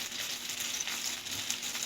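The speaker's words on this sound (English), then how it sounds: "And just stir fry that together until you get it a golden brown." Mushrooms and onions stir-frying in a pan, seasoned with paprika, garlic salt and pepper, give a steady, close sizzle with soft crackles and occasional stirring scrapes, no voices over it.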